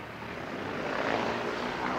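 A Jetstar airliner taxis at an airfield, its engines giving a steady broad roar that builds slightly and holds, heard from a distance with no voices over it.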